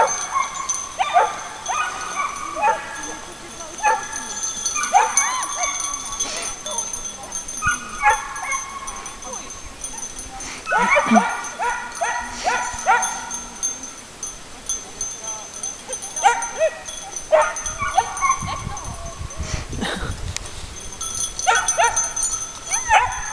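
A dog barks outdoors beside a herd being led uphill, giving repeated sharp barks and yips in irregular bursts, loud and close, with some whimpering, over light hoof clatter and voices talking.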